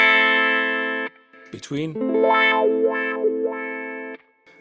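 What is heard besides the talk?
guitar wah pedal, Cry Baby setting, heel and toe positions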